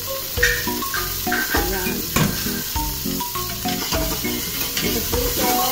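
Garlic sizzles in a little oil in a pressure cooker while being stirred, a steady close frying hiss with scraping strokes, and a voice speaks briefly over it.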